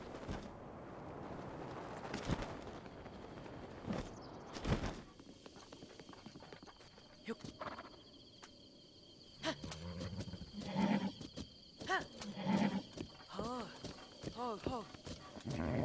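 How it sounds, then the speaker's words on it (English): Horse hooves clip-clop in Zelda: Breath of the Wild, irregular steps mixed with game effects and a speaking voice over much of the stretch. "Horsey, go where I tell you."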